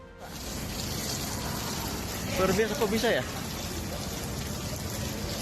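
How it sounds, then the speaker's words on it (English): Heavy rain pours onto a vehicle in a very localized downpour, a constant close hiss and drumming that continues while someone speaks briefly over it. "a genuine downpour is falling exclusively on his vehicle"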